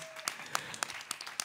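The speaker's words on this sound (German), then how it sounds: "Mit einem großen Applaus." Applause from the audience at an open-air show: scattered, distant claps in an irregular rhythm, fairly faint and thin.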